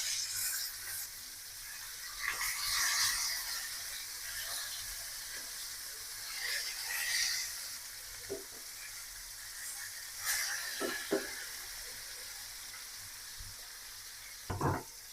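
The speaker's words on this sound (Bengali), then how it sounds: "মাছটা ভাজা হয়ে গেছে," Pieces of catla fish sizzle and crackle steadily in hot oil in a frying pan, a continuous hiss broken by occasional louder spits and stirring clatters, with no talk.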